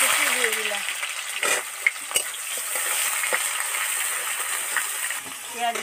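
Chopped onion frying in hot oil in a wok, with green chili and bay leaf already added. A loud, steady sizzle carries scraping stir strokes and clinks throughout, with a voice talking over it.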